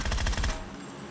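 An SKS rifle fires in PUBG on the Miramar desert map: a rapid burst of about five loud, close shots in even rhythm, then a fading tail.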